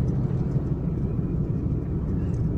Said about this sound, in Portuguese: É onde está saindo aquele caminhão, aquele articulado lá